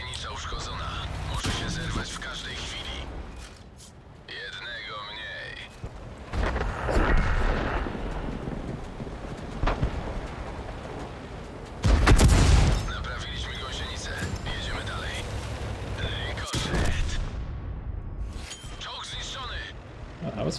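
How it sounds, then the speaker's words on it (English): A T-50 tank in a video game fires rapidly, heavy booming shots bursting repeatedly among engine rumble and battle noise, with someone talking over parts of it. "That was a fast rate of fire on that T-50"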